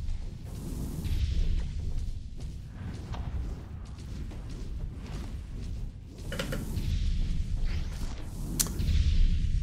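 A skull boss in the action roguelike Umigame sets off repeated explosions, heard as booming bursts and sharp cracks over a dense rumbling low din, with a cluster of hits near the end.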